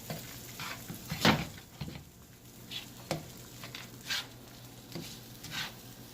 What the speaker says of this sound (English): she's going to saute this in the sesame oil